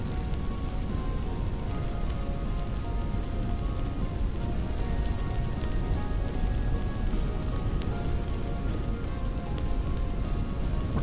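Steady rain patters and hisses continuously on a hot campfire in the video game Vintage Story, an even, dense sizzling wash with no voices.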